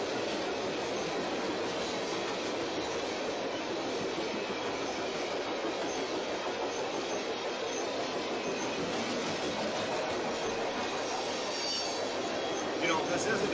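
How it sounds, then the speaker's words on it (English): A freight train with a long block of ethanol tank cars rolls past at a steady, fairly faint level, giving a continuous rumble and wheel clatter that barely changes for the whole stretch, with a brief sharper sound near the end. "this isn't a unit ethanol train, but like the other one was, but there's a big block of ethanol tankers here"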